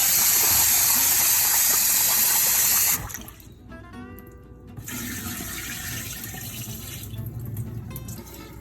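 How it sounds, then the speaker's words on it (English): Rice is rinsed under a running kitchen tap, starting as a loud steady gush of water into the pot, then shifting to softer swishing and sloshing as the grains are stirred in the water. "I'm gonna go ahead and rinse the rice here a little bit."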